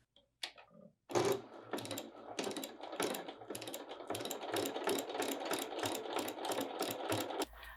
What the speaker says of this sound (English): we're gonna go ahead and sew along the edges so it will stay upward